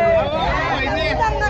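Dense crowd babble at the Yellamma Devi temple fair in Kokatnur, a close, continuous hubbub of many overlapping voices with lively chatter throughout.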